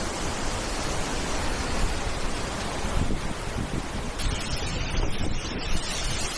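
A steady, dense roar of falling water from the Paltau waterfall fills the scene, broad and continuous without pause.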